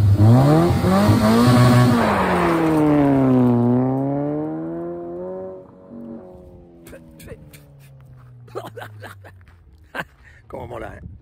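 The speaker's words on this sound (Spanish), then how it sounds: "brutal, la aceleración, todo, porque es un motor atmosférico" A Subaru Forester 2.0i with a naturally aspirated engine accelerating hard, a loud rising engine tone that sweeps up through the gears and then fades, followed by faint scattered clicks.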